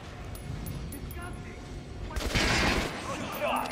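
Gunfire at an armored target dummy in Metro Last Light, a dense burst of shots ringing out over a steady background hum, loud and close, with a short pause before the firing resumes.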